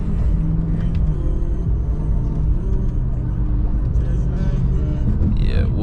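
A 600 hp BMW M5 on a backroad drive, its engine a loud, steady low rumble throughout with a rising whine near the end as it pulls toward redline, heard from inside the car.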